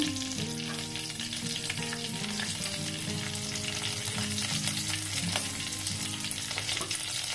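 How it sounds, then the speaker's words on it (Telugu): Mustard seeds and cumin spluttering in hot oil for a gram-flour pakodi curry, a dense, steady crackling sizzle with sharp pops throughout, loud and close with no talking. "ఆవాలు చిట్టుపట్లు ఆడుతున్నాయి."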